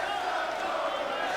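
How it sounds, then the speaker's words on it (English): A Chinese crowd at a table tennis world championship semi-final cheers and shouts in support of Huang, a dense, continuous roar of many voices at steady volume. "Chinese crowd getting behind Huang, and they're being matched by Chris Doran's supporters"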